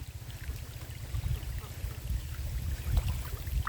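Water pouring down from a source above, a steady rushing trickle like a small stream, close by and fairly quiet, with a low rumbling wash throughout and no talking.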